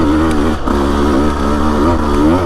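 A Husqvarna TE150 dirt bike engine pulls hard in second gear on loose single track in Florence, Arizona, a loud, close, buzzing two-stroke note that wavers slightly as the throttle shifts.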